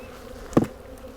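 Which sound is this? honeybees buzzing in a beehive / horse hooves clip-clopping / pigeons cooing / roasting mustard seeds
honeybees buzzing in a beehive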